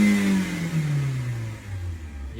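Car engine revving to about 4,000 RPM after a transmission swap, a close, loud mid-pitched roar whose pitch slides steadily downward as the revs fall off over a couple of seconds, with no voices.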